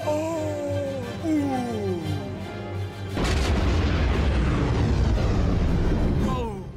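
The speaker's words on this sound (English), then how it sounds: "We're almost ready to fire my proton torpedoes." Sci-fi proton torpedoes fire and explode in a space battle: a loud sustained rumbling blast takes over halfway through, following earlier tonal swooping effects under a voice.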